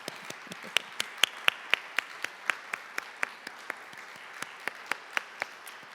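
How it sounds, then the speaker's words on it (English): A small audience at a trauma-informed lawyering symposium claps for the 2023 Fellows class, with sharp, distinct, fairly steady hand claps that sound sparse, like a modest group, near and clear with no talking. "give you a round of applause for your efforts"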